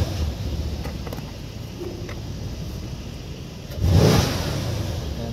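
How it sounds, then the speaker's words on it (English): A 2018 Mercedes C63 S AMG engine with an aggressive exhaust mode runs at a steady rumble, then surges in a brief rev around the four-second mark before settling back to a throaty idle. "What I'm going to do is to fire the car up."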